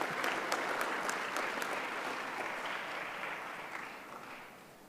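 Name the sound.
audience applause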